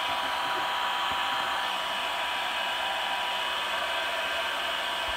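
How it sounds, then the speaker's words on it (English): A hair dryer blows steadily and loudly throughout while drying a thinned poster or card stock picture, with a constant airy roar and no pauses or voices. "Stick that under the blow dryer for a moment."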